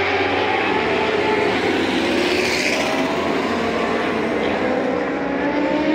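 Racing motorcycles howl around the track at the 24 Heures du Mans endurance race, a continuous loud engine drone with pitch sweeping up and down as bikes pass, fairly near.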